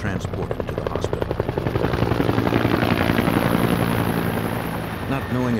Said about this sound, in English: He was rushed outside, where a helicopter waited to transport him to the hospital.